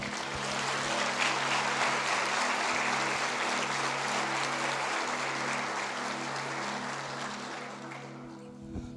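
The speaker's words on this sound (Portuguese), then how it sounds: "Aplauda o nome dele." A church congregation applauds during a Quadrangular service. The even, dense clapping holds steady over a low hum, then thins out at the end.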